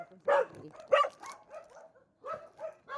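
A dog barks several times in quick, uneven bursts, close by, with some yips between the barks.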